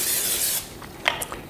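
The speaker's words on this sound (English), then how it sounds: "I'm just going to spray with some cooking spray" Cooking spray hisses from a can into a pan heated over medium-high heat, a steady close spray for about half a second that cuts off, followed by a few light clicks and rattles.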